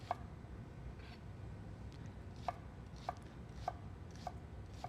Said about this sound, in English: chopping these really nice and fine, or this one shallot really nice and thin